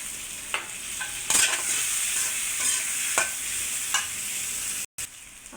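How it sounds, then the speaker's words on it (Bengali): Chopped onions frying in hot oil after potatoes, a continuous close sizzle with repeated scraping stirs and a brief dropout near the end. "এখন আমি পেঁয়াজ কুচি দিলাম।"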